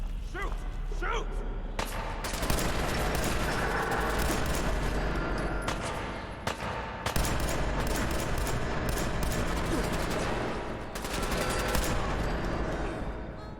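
Heavy gunfire rattles through a post-nuclear video game, with bursts of rapid shots and loud impacts going on continuously, and a player's voice breaking in over the combat.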